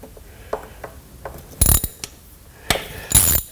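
Pneumatic impact gun spinning out 10 mm bolts from the 4R70W transmission of a 2000 Mustang GT during a shift kit install, two loud close bursts with a few light mechanical clicks in between.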